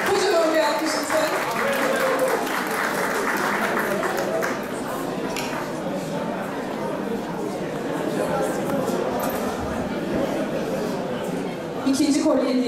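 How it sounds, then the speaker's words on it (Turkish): Audience clapping at a Circassian association evening in Ankara during a prize draw, a broad steady patter that holds for several seconds then thins, with someone talking over it at a microphone and some background chatter. "Kocaman bir alkış lütfen."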